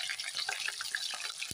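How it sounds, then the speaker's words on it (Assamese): Pieces of fish dropped into hot oil in a home kitchen, giving a steady bright hiss of frying with faint crackles throughout, fairly quiet and with no voices. "তেল গৰম হোৱা মানে মই এইফালে মাছকেইপিচ দি দিছোঁ"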